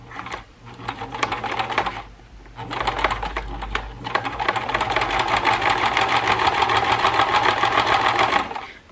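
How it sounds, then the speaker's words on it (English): Sewing machine stitching the straight edge of a homemade pot holder, a rapid mechanical clatter that starts, pauses briefly, then runs steadily and loud for several seconds up close. "start sewing"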